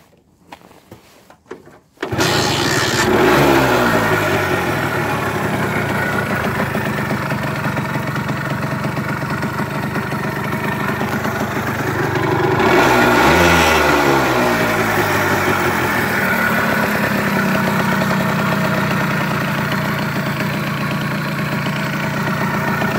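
A 1982 Hercules Ultra RS 80 AC moped engine starts after a brief quiet moment, then settles into a steady, close idle with a slight revving rise partway through, running alone without talk.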